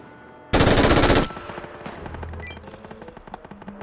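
A loud, rapid burst of automatic gunfire in PUBG lasts under a second, then gives way to quieter clicks and game sounds.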